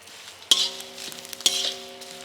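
Spices for sambar, including Byadagi red chillies, sizzle and crackle in a pan, with two sharp metallic stirring clinks standing out above a soft, steady frying hiss.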